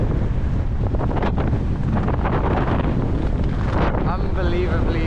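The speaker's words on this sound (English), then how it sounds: "Now I'm walking into the wind" Heavy gusts batter the microphone during a windswept walk, a dense, close roar that swells and dips, with a faint voice-like murmur near the end.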